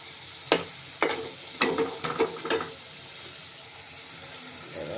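Vetki fish and spice paste cooking in a pan, with several sharp clanks and scrapes of stirring clustered in the first few seconds, followed by a quieter low sizzle.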